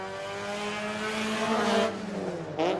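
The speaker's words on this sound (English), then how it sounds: "Remainder of the cars coming round." Rallycross race cars passing on a track, a sustained engine drone with shifting pitch that swells near the middle and ends with a loud burst as another car approaches.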